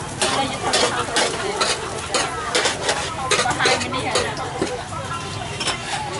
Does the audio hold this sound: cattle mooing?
no